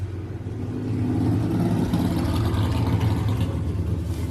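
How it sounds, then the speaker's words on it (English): A very loud motorcycle passes on a neighborhood street, its engine rumble swelling from a distance into a deep, steady drone that stays fairly strong throughout, with nobody talking. "neighbor going by on his really, really loud motorcycle"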